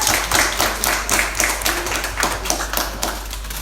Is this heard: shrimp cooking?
no